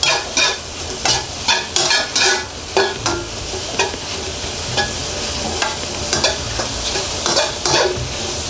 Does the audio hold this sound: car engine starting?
no